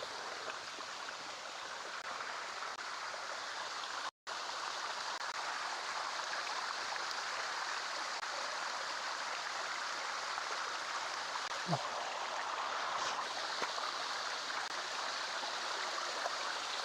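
Water rushes over a waterfall in full flow, a steady, even roar that holds unbroken throughout, fairly soft and without any talking.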